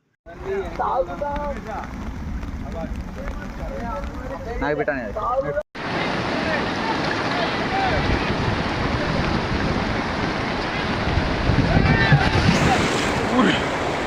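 Monsoon-flooded village streams rush with a loud, continuous roar mixed with wind buffeting the microphone, while a voice talks over the water early on before a brief cut.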